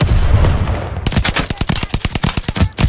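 Gunfire in Call of Duty Vanguard: after a moment of rumbling background, a rapid automatic burst of close, loud shots fires in a steady rhythm until the end.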